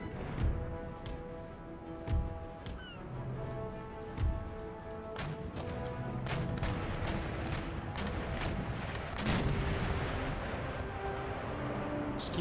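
Cannon fire of round shot in a naval battle in Empire: Total War, a series of repeated booming shots and cracks over layered game noise and music, some near and some farther off, with no talking.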